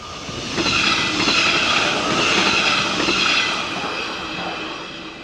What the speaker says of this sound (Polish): No, ja bym powiedział nawet bardziej, że to taki szynowóz jest, a nie pociąg.